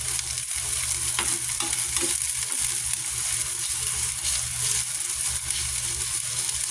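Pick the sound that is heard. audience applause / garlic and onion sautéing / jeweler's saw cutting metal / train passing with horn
garlic and onion sautéing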